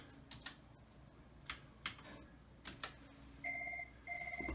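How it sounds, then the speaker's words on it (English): A desk phone being dialed: a series of quiet button clicks and taps, then paired ringback tones in the receiver, faint and close in a quiet room. "I'm going to dial now."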